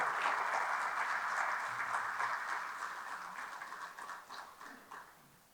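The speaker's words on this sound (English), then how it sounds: "Please give him a big round of applause." An audience at a lecture event welcoming a speaker claps steadily, a dense wash of applause that starts full and gradually fades toward the end, with no voices.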